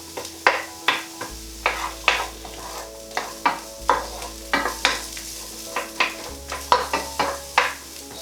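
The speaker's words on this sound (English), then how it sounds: "So I'm just keeping those moving around for just 2 minutes" Onions fry in a pan for jackfruit fajitas while a utensil stirs them, producing a steady rhythm of close scraping strokes about twice a second over a soft sizzle, with no talk.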